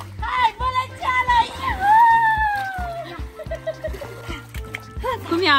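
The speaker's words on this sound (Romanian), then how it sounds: "Hai, bălăceala!" Children splash and slosh in water in short bursts close by, mixed with excited voices and high calls over the splashing.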